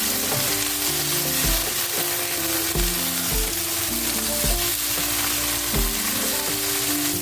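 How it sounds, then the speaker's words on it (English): Chopped vegetables fry in a pan for fried rice, a steady close sizzle running throughout with periodic stirring scrapes and clanks of a utensil against the pan. "I put the vegetables in the pan and I'm going to allow it to cook"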